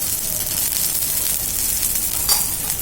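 Oil sizzles steadily on a peas and potato paratha frying in a pan, a continuous close hiss that stays loud throughout with a small crackling burst near the end.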